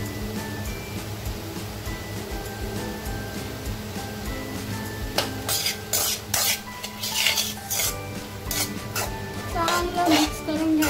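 A spoon stirs paneer chilli in a pan over a steady sizzle, with repeated sharp scrapes and clinks against the metal, growing busier toward the end.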